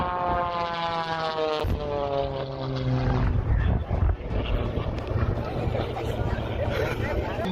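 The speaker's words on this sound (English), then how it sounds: "Shortly after takeoff, an Antonov Antu-R clips a tree and crashes." A propeller-driven Antonov aircraft clipping a tree and crashing just after takeoff. A droning engine with a falling pitch gives way to a loud, chaotic roar and noise, with voices talking throughout.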